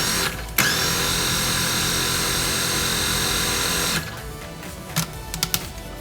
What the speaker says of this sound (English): So we're gonna put our lid on our processor and give this a few pulses to combine.